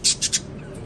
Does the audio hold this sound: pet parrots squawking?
yes